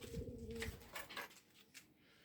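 A pigeon coos softly nearby at a loft, a few low throaty notes at the start, followed by faint scattered rustles and chirps.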